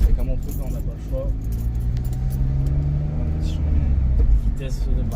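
A 2006 BMW X3 with a manual gearbox and a damaged exhaust drives along with a loud, steady low engine rumble that swells slightly. Keys jangle nearby and a muffled voice can be heard.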